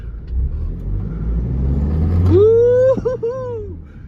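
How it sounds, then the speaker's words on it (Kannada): A Toyota Innova Crysta engine in power mode revs up sharply from a low idle rumble into a loud, rising whine, holds, dips briefly, then swells again before settling. "ಸೊ ಇಂಜಿನ್ ಪ್ರಿಪೇರ್ ಆಗುತ್ತೆ. For power push."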